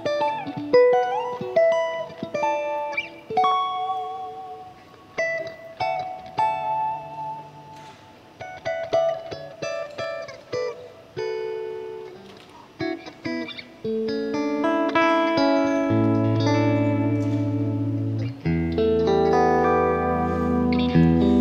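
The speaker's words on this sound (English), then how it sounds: "I put the phaser on and think, it kind of sounds like it." Electric guitar playing picked single notes and chords through a phaser effect, a swirling, sweeping modulation, ending in sustained ringing chords.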